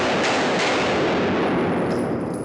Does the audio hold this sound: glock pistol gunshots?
yes